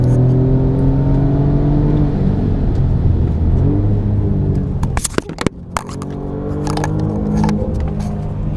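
An Alfa Romeo Giulia accelerates hard with a rising engine roar through the gears, then a brief clatter and a lull before the engine builds again from inside the car.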